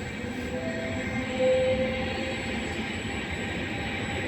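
A train at Padova railway station, a low steady rumble of rolling stock with a faint tonal whine rising briefly midway, heard at moderate distance with no talk.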